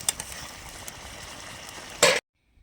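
A silver carp curry with green tomato and potato is stirred in a pan, giving a steady soft scraping sizzle that ends in a louder clatter before cutting to silence.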